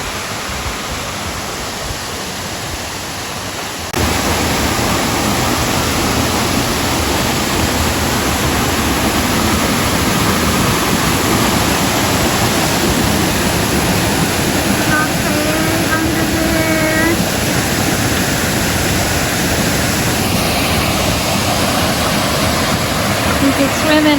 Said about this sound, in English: Creek.